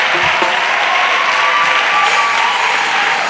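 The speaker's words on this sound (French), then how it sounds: "Acclamation. Clap of praise." Church congregation clapping in praise during a worship altar call: continuous massed applause, loud and close, with a faint cheer or shout rising through the steady roar of hands.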